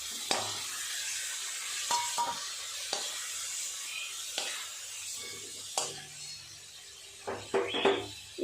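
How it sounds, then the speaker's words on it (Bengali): Prawns sizzle in hot oil in a pan, with steady soft frying hiss and several sharp scraping stirs of a spatula spaced through, louder clatter near the end. "চিংড়ি মাছ ভাজা হতে বেশি সময় লাগে না"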